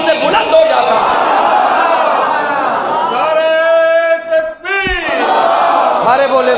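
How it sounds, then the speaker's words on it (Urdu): A large religious gathering chants a slogan in unison, many voices loud and sustained in a long drawn-out cry, with a brief dip before the chanting swells again. "ہاتھ اٹھا کے نعرے کا جواب دیں"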